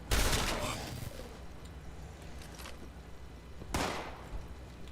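Gunfire is aimed at the player in Fallout 76, with a loud shot burst right at the start, a faint patch of background noise, and a second sharp shot near the end.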